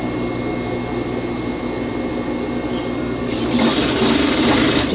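Sewing machine stitching down the hem of a vest, a steady close motor drone with a denser, louder run of needle chatter toward the end.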